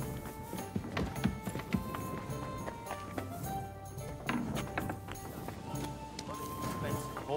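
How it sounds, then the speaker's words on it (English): Horse hooves clip-clop in the medieval game Kingdom Come: Deliverance II, a quiet, uneven rhythm of hoof strikes under near-constant talk and game ambience. "Expensive horse."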